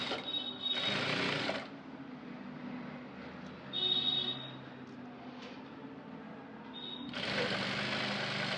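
A sewing machine runs stitches along the folded edge of a lining strip for a blouse in three separate bursts, each a quick, buzzing, rapid run of stitches, close and clear with quiet gaps in between.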